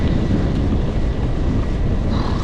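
Strong wind buffets the microphone during a bike ride on the Trans Pennine Trail between Hornsea and New Ellerby, a constant loud roar, low and rumbling, with no voices.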